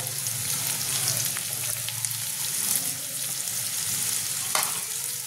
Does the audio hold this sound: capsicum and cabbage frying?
yes